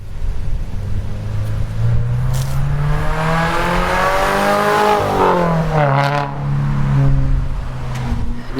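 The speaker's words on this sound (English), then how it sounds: "here's what the car currently sounds like with the stock intake." Revving engine of a 2022 Subaru BRZ on its stock intake, rising and falling through several continuous pulls, loud and close with no talking over it.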